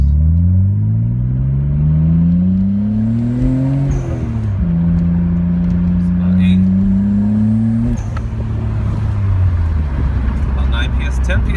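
A Nissan R32 Skyline GT-R idles while warming up, a loud steady engine drone whose pitch climbs, dips and holds in stages as the revs change, with no pauses throughout.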